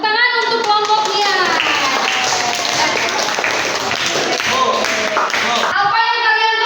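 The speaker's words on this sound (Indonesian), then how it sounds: "tepuk tangan untuk kelompoknya" Classroom applause for a group of students, a loud, dense burst of many hands clapping with children's voices and chatter mixed in, fading near the end as talking continues.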